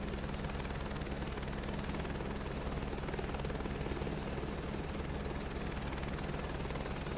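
Chinook helicopter in a flight simulator, its tandem rotors producing a steady, loud low-frequency chop and engine drone that holds constant throughout, with no talking.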